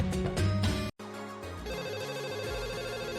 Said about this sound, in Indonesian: Detektif Tina dapat telepon darurat dari museum lokal